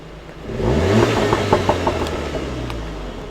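A Cupra hot hatch engine revs up loudly and throatily through its exhaust, rising and falling in a few bursts before settling into a steady rumble close by.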